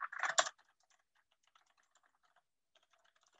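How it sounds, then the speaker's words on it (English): A burst of fast keystrokes at the start, then light, sparse clicking on a computer keyboard, close and quiet, with a final tap at the end. "Can you guys see me typing?"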